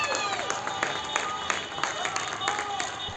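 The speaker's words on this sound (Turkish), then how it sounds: "Mardin'de yurttaşlar yeni tip koronavirüsle mücadelede görev yapan sağlık çalışanlarına evlerinin balkonlarından alkış tutarak destek verdi" Residents applaud from their home balconies in Mardin for health workers fighting the coronavirus, a broad, continuous wash of distant clapping with occasional louder claps and faint voices across the neighbourhood.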